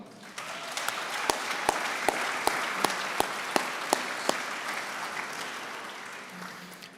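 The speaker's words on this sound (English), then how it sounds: "please give a round of applause for the executive director of the Shirley and Billy Weir Foundation, again, Mr. Mike McCollum" Banquet guests at the 2023 Georgia PGA Awards applaud the executive director of the Shirley and Billy Weir Foundation: sustained indoor clapping with a few sharp, close individual claps standing out, tapering off toward the end.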